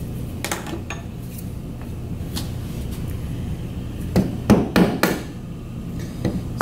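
Hand chisel and gouge carving reclaimed wood: several sharp knocks and taps, with a cluster of louder strikes in the second half, over steady low room noise and no talk.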